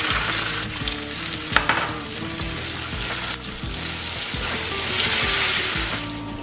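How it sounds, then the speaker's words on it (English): Garlic and tomato fry loudly in a pan for vegan paella, a dense close sizzle broken by stirring scrapes and clatter against the pan. "we're going to put our tomato on top just to stop that cooking process so our garlic is not going to burn"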